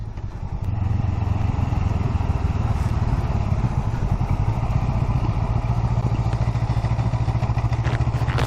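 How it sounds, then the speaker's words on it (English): Honda Rebel motorcycle riding down the road, its engine a steady, loud, continuous drone with rhythmic thumping and clatter throughout, no talking. "Thank you, Honda Rebel, for being such a forgiving bike."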